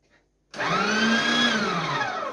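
Electric meat grinder switched on for mincing meat, a steady loud motor whine with a slowly sliding pitch that starts abruptly after brief quiet and runs on evenly.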